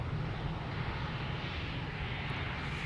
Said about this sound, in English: EasyJet is taking off in front of it on the south side